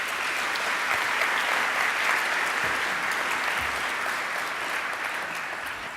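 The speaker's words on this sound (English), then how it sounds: "So when I call out our sponsors, if we could please have a round of applause." An audience applauds for the sponsors at the Admental 2018 mental health event in Adelaide, a dense, steady wash of clapping that holds at full strength throughout and eases very slightly toward the end.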